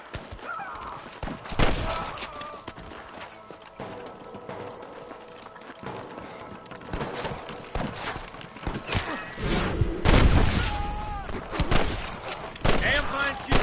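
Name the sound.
gunfire in the video game Red Dead Redemption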